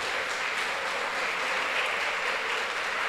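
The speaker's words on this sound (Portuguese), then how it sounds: "Dê um aplauso ao Senhor por isso." A church congregation claps together in a steady, dense wash of applause that keeps an even level throughout, with no voices on top.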